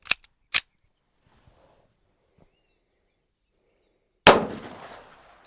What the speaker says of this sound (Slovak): Pozor, strieľam.